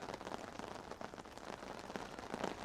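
Rain falling on a camp in the outdoors, a close steady patter of drops on tarp or surfaces with scattered louder taps, soft and continuous with no voices.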